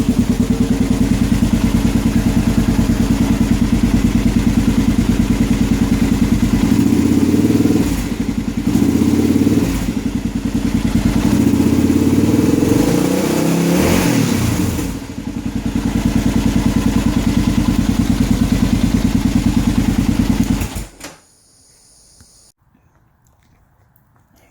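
A 1990 Kawasaki KLX 650 motorcycle engine runs loud and close, idling with repeated revs that swell and drop, then cuts off abruptly near the end, leaving near silence.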